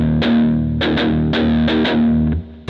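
Palm-muted low strings on an electric guitar, picked with the hand resting at the bridge for a punchy, distorted chug; several loud, close picked hits in an uneven rhythm, then a short break and one more attack at the end.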